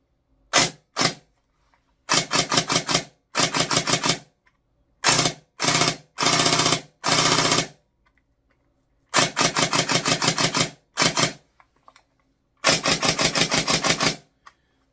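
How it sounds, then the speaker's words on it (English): A Silverback MDR-X airsoft rifle with a scratchy gearbox fires in separate clusters of rapid, sharp mechanical clacks, loud and close, with short silent gaps between bursts. "the gearbox sounds really scratchy, like it's not meshing right, or something's like rubbing together"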